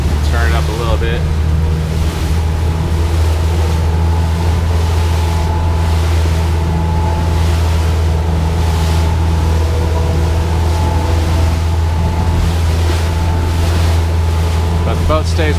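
A 2016 Mako 204CC center console boat motors steadily on open water, its outboard droning loud and constant as the throttle is eased up, with hull slap, spray and wind rushing throughout.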